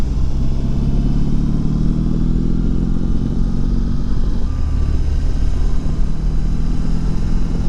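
A motorcycle riding along a road, its engine droning loudly and continuously with wind rush, close and steady throughout with no talking.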